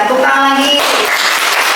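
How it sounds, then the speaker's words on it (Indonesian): Students in a classroom break into applause, a dense burst of clapping that follows a short stretch of voice and runs to the end. "Tepuk tangan lagi."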